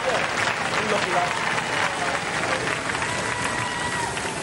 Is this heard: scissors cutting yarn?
no